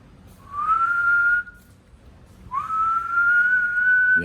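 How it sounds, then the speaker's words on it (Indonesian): A person whistles two sustained notes, each gliding slightly upward and held steady, separated by a short pause; clear and close. "Coba siul."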